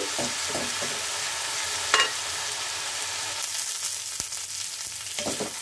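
Vegetables fry with a little salt for moong dal, a constant close sizzle broken by a few sharp clinks and scrapes of a spoon stirring the pan.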